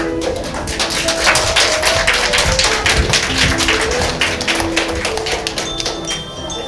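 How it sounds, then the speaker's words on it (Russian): Parents clapping their hands at a kindergarten New Year party in Yakutsk, a steady stream of many quick, sharp claps from a group, continuing at an even pace with some music in the background. "А ну-ка, мамочки, папочки, быстренько, громко, хлопаем в ладоши."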